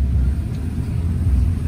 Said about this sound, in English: Now let's take you on a short test drive